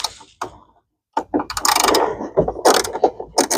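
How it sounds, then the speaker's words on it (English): Metallic clicking and ratcheting as parts are unscrewed from a Philco radio, coming in short close bursts of turning and scraping separated by brief quiet gaps. "I'm just unscrewing stuff right now."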